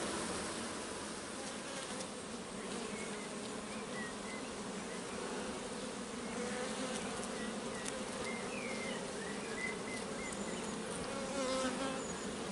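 Honeybees swarm around an opened hive, a dense, steady buzzing drone that fills the whole stretch, close and continuous with no voices over it.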